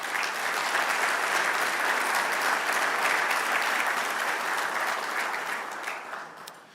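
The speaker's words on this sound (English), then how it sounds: "Please give them all a round of applause." A dense crowd at an awards ceremony applauding steadily and loudly, the clapping sustained throughout before tapering off slightly at the end.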